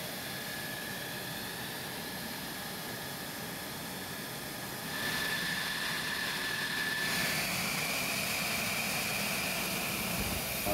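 An F-16 Fighting Falcon's jet engine runs during ground checks before taxi, a steady broad roar with a faint whine that grows louder partway through and holds.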